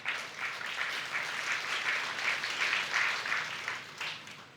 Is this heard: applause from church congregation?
yes